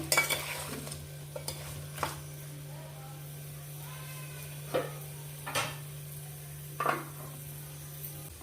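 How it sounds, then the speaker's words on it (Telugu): Vegetables for sambar, including drumstick and other pieces, being stirred with salt in a pot: a quiet sizzle with a few sharp scrapes and clinks of a spoon against the pot, close, with a steady low hum underneath. "ఉప్పు వేసి బాగా కలిపేసి మూత పెట్టేద్దాం మళ్ళీ"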